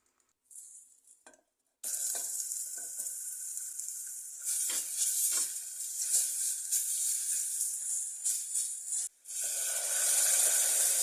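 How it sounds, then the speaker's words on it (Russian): Tomato sauce, tomato paste and flour mixture stewing in a pot, a continuous bright sizzle and hiss with stirring scrapes and brief pauses, close and fairly loud. "Тушу эту томатно-мучную смесь несколько минут."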